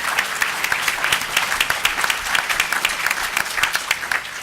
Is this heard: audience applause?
yes